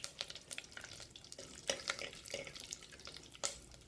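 Curry leaves with dried red chillies sautéing in oil for sambar, a faint low sizzle with occasional light stirring scrapes and taps nearby, no voices.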